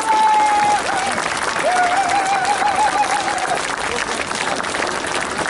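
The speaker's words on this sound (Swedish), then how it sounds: "jag tycker det är värt en stor applåd för oss här idag" Audience applause at a Röd Front 2015 communist party political speech: sustained, dense clapping from a large crowd lasting throughout, with a faint whistle-like tone rising over it partway.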